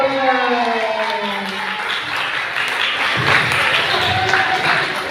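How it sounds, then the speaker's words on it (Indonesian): An audience claps at a Vesak celebration held by a Buddhist community, producing a steady patter of applause, with a voice speaking briefly over it at the start. "Tepuk tangan."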